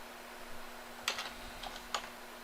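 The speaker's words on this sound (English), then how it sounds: "you're going to want to type in your username and password" A few quick keystrokes on a computer keyboard as a username and password are entered, light close clicks in small sparse clusters over a faint steady hum.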